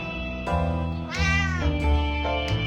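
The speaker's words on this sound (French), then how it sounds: "Depuis tout à l'heure, on l'entend miauler" A cat meows repeatedly in the 60 Seconds survival video game, several drawn-out, rising and falling cries over a steady low background hum, fairly loud and close.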